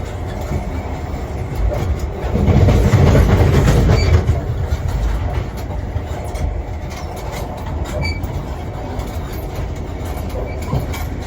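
A car-carrying train rumbles steadily past nearby, a continuous roar of wheels on rails with faint rhythmic clacking and a louder swell early on.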